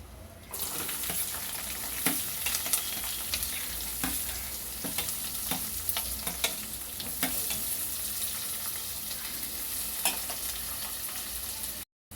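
Dried prawns and onions fry in a pan with a steady, loud crackling sizzle, broken by frequent sharp scrapes and clicks of stirring throughout, then a sudden cutoff at the end.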